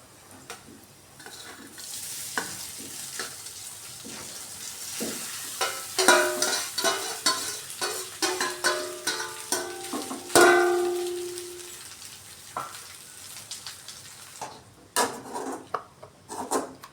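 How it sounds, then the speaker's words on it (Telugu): Cooked rice is folded into a fried tempering for lemon rice, heard as repeated scraping and stirring strokes of a spoon against the pan, loud and close, with a light sizzle underneath and a few sharper clanks. "ఇప్పుడు దీంట్లోకి అన్నం వేసేసుకోవటమే"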